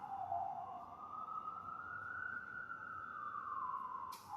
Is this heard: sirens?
yes